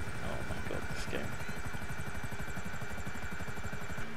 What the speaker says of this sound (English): Spawn my helicopter in a fucking wall.